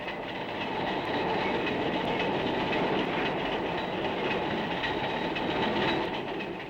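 A freight train rolls steadily along a railroad near a small-town freight station, wheels producing a continuous loud rumble and clatter throughout, with no voices.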